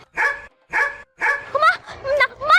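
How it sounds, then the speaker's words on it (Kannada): A dog barks several times in quick succession, loud and close, the later barks rising into yelping whines. "ಆ ನಾಯಿ ಹೇಗ್ ಅಟ್ಟಿಸ್ಕೊಂಡ್ ಬರ್ತಿದೆ ಅಂತ ಎಷ್ಟು ಭಯ ಆಗ್ತಿದೆ ಗೊತ್ತಾ?"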